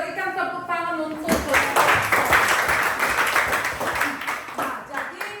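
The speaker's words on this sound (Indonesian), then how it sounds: "Berikan tepuk tangan untuk" A voice speaks briefly, then a group of participants breaks into close, lively applause for a presenting group, with voices continuing underneath the clapping until the end.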